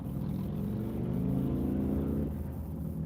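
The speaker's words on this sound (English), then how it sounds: "That was a motorcycle." A motorcycle passes by outside, a steady low engine rumble with a rising, whirring drone that builds and then fades away over a few seconds, with no voices over it.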